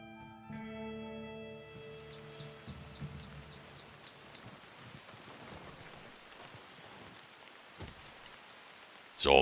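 Steady patter of rain in Red Dead Redemption 2 Online with soft droplet ticks throughout, fairly quiet, opening with a fading musical tone and ending on a brief louder knock.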